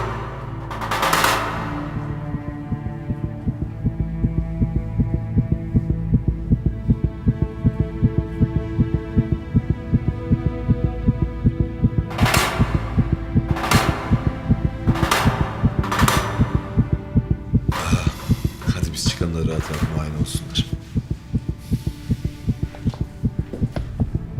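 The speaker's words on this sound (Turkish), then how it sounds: "Şimdi benim bu kalp atışım sesine kesintisiz ihtiyacım var kardeşim." A looped heartbeat sound effect plays on a stage show, with steady, throbbing low thumps repeating in an even rhythm throughout, loud and continuous, with a few sharp bursts layered over it.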